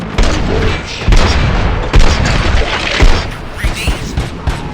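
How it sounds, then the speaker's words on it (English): Gunfire in the video game Robocop: Rogue City, with several heavy, booming shots landing at irregular intervals over a dense, noisy background of continuous rumble and clatter. "Gunshots? What's going on?"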